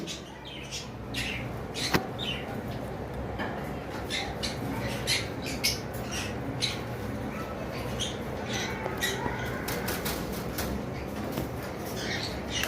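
Double factor violet masked birds in a small cage on a bird farm squawk repeatedly in short, sharp bursts over a constant background of bird chatter, heard from close by at moderate loudness.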